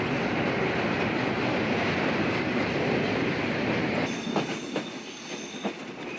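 The Rupsha Express intercity passenger train rumbles loudly and steadily crossing the Hardinge Bridge at Paksey, Bangladesh, then the roar eases into rhythmic metallic clatter and faint squeals of wheels on track.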